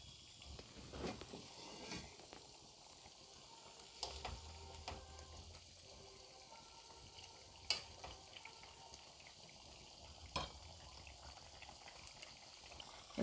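Fish pieces frying in a pan for Assamese fish curry with cabbage, giving a faint steady sizzle with a few sharper clicks and stirring knocks, heard close with no talking.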